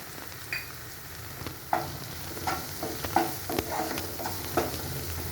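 Tomato and homemade masala chili powder frying in a pan for street-style egg bhurji, a steady close sizzle broken by repeated scraping stirs of a spoon against the pan.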